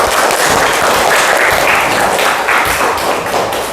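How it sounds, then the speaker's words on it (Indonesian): Classroom applause from a group of students, a steady dense wash of clapping hands that stays loud and even throughout with no pauses. "tepuk tangan untuk kita semua dulu"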